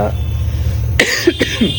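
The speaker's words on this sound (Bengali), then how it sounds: "সরি এখনও পর্যন্ত কাশিটা রয়ে গেছে" A man gives a sudden, loud cough close to the microphone, followed by a second, smaller throat-clearing burst, after a moment of low background hum.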